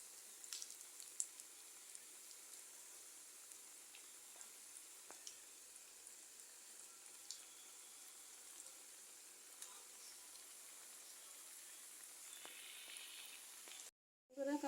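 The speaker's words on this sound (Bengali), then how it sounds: "এই যে একটা একটা করে ভেজে নিচ্ছি, এভাবে প্রত্যেকটা কাবাব ভেজে নেব" Jali kebabs frying one by one in hot oil, a faint, steady sizzle with occasional small pops and crackles, continuous and quiet, cutting out briefly near the end.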